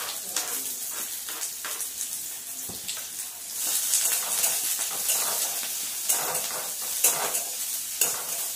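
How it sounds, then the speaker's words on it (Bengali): Chopped onion, ginger and garlic sizzle steadily in a pan along with whole cumin and bay leaf, a bright continuous crackle with intermittent stirring scrapes, growing slightly louder partway through, with no voices. "পেঁয়াজ আদা রসুন যখন ভাজা হয়"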